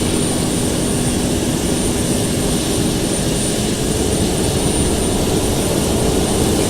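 Boeing 767 jet engines spooling up in Microsoft Flight Simulator X, a steady, loud, continuous turbine roar with a high whine, holding constant throughout with no talk.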